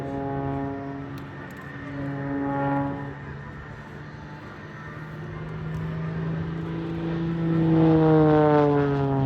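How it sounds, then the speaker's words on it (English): A propeller aerobatic aircraft flies a torque roll into a flat spin at the Farnborough Airshow, its engine droning steadily with pitch sweeps and swelling louder near the end, heard from a distance with no talk. "Now this is called a torque roll. It's transitioned at the top though into a flat spin."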